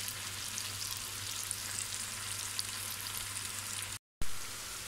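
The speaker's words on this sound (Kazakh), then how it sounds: "Етіміз, пиязымыз бәрі жақсылап қуырылып болды" Meat and onions for Kazakh palau fry in a kazan with a steady, close hiss and sizzle that runs without a break, apart from a brief dropout near the end.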